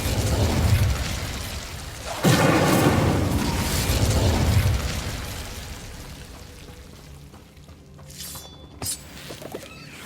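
An Incendio fire spell cast in the video game Hogwarts Legacy, a deep booming burst followed by a second whooshing eruption of flame that fades into crackles, ending with a brief bright magical chime.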